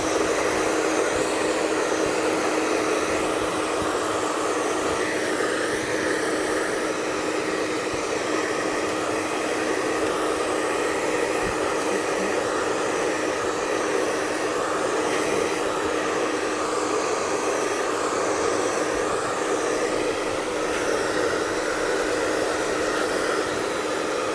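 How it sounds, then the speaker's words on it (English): A hair dryer runs continuously at close range while drying a hair weave, a steady high-pitched whooshing whine with slight wavering in tone. "then you get your blow dryer. Your blow dryer, you put it on."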